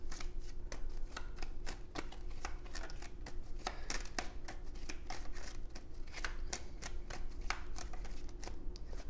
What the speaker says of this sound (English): Let's get some of these Kipper cards.